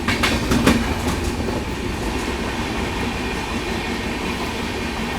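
An Indian Railways Shatabdi Express running at speed overtakes a standing express train near a station, with a loud, steady rush of wheels and wind and some clattering at the start, close by and with no talking.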